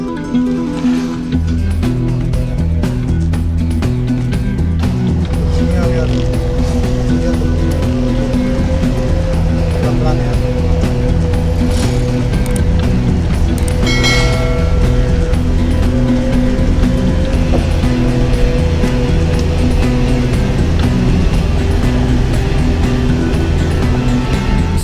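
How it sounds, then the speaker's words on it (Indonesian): Very large trucks haul nickel back and forth near a smelter, a loud, steady rumble of heavy diesel engines and tyres that stays continuous throughout, with no talk. "Bisa kita lihat truk-truk sangat besar yang jumlahnya antara ratusan atau ribuan hilir mudik mengangkut bahan nikel."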